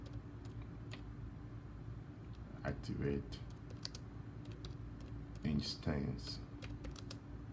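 Computer keyboard typing a command on a Windows Server 2012 R2 system, heard as short bursts of clicking keystrokes around the three- and six-second marks, moderately close, with someone talking over a steady background hum.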